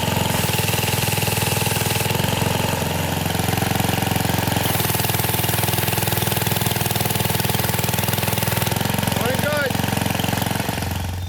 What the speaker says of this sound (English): You pull the handle, pressure comes out of the wand, and you hear the engine strain.